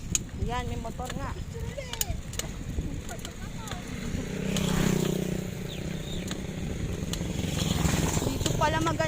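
A motorcycle passes along a rural road in Bulusukan, Bulacan, its engine swelling to a steady drone midway and lingering under nearby voices talking throughout.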